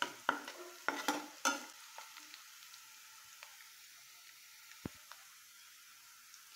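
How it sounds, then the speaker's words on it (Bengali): Red amaranth greens tipped into oil with fried onion, garlic and green chili give a few sharp stirring scrapes and short sizzles at first, then fade to a faint, sparse crackle. "জিরাটা আমি এখন শাকটা ঢেলে দিচ্ছি তেলের মধ্যে।"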